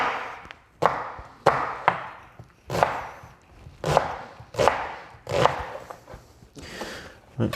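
Knife chopping onions on a board for potato and leek soup, about nine firm chops in an uneven steady rhythm, close and clear with no talking.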